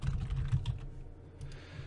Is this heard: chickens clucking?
no